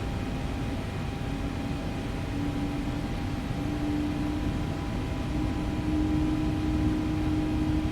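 Four jet engines spooling up to 40% power in a flight simulator, heard as a steady broadband roar with a low hum whose tone gradually rises and strengthens.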